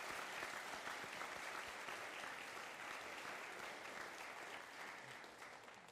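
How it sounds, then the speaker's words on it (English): Sustained, dense applause from an audience of eighth graders and families at a middle school moving-on ceremony, steady and full throughout before tapering slightly at the end. "let's give a round of applause to our parents as well"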